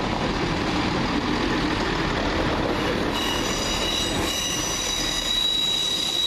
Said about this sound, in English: the 13:42 Arriva Trains Wales service to Holyhead